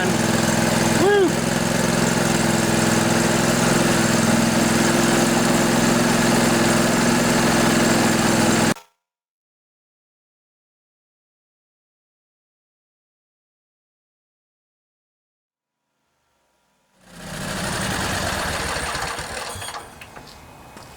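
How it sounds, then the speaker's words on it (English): A Briggs and Stratton 18.5 hp V-twin OHV Intek lawnmower engine runs with a loud, steady close drone, then cuts out to silence for several seconds before a rougher running sound returns. "Been a long time since this engine has ran."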